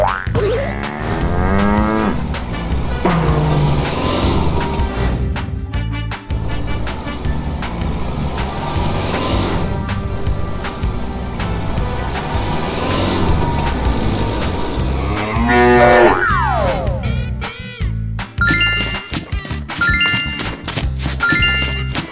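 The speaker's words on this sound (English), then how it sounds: "cow." Cartoonish cow moos sound over busy children's game music with boings and dings, with repeated bright tones throughout and no speech.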